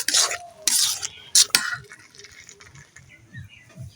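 Mango pickle with a sprinkle of garam masala powder stirred in a pan: a few loud scraping strokes in the first second and a half, then quieter scattered stirring and light clinks.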